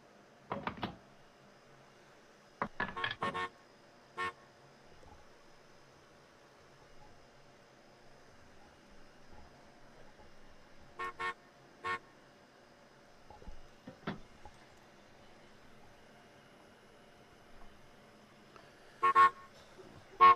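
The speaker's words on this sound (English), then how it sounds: "The fuck is honking?" A car horn sounds in scattered short honks and quick double bursts across a quiet stretch, some louder and nearer than others, with long gaps between them.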